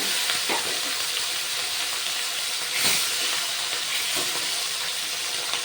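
Pieces of rohu fish frying in hot oil, giving a continuous loud sizzling hiss with occasional sharper spits and pops, close and steady with no talking.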